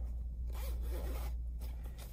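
A zipper on the removable washable cover of a gel-infused seat cushion is pulled open in two quick, close rasping strokes, heard alone and quietly.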